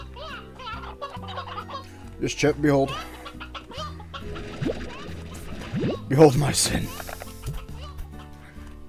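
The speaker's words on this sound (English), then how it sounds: "Chickens everywhere." Chickens in Slime Rancher cluck and squawk repeatedly around the player, several birds nearby in irregular bursts, with game music and a person talking over them.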